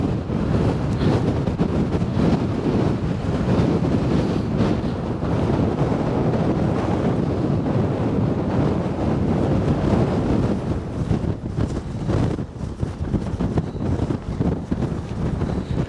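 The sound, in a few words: strong coastal wind on a seaside walk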